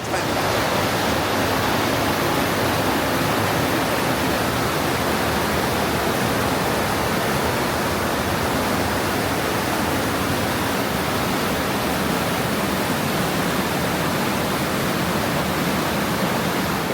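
Water rushing through the frozen Partnach Gorge near Garmisch, a dense, steady roar that holds at an even loudness throughout with no voices over it.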